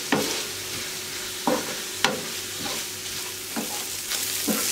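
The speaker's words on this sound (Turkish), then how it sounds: "Soğanları iyice içerisinde kaybolana kadar kavuracağım." Onions and minced meat filling for börek sautéing in a pan, a constant close sizzle broken by about six sharp scraping strokes of a spoon against the pan at irregular intervals.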